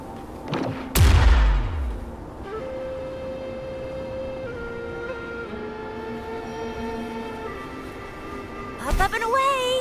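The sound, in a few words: explosion of tacitite fulminate in Wuthering Waves video game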